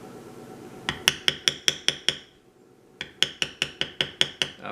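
Steel beveling tool struck repeatedly with a mallet on leather while tooling a wild rose, two quick runs of sharp, evenly spaced taps close by with a short pause between.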